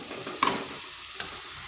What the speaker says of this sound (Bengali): এইভাবে খুব ভালো করে ডালের সঙ্গে মিশিয়ে নিতে হবে